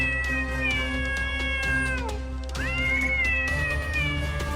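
A cat meows in a Hindi children's story, two drawn-out, wavering calls, the second rising sharply after a short gap, loud and clear against a low steady backdrop.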